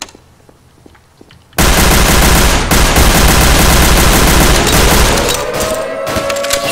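Rapid automatic gunfire from a shootout in the multiplayer game Garry's Mod, a PurgeRP server bank defense, bursts in loudly after a quiet start and rattles on as a dense, continuous fusillade to the end.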